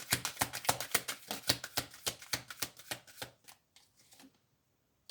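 A deck of tarot cards is shuffled by hand in a rapid, even series of about twenty soft, close riffling slaps that slow and fade out near the end, with no talk.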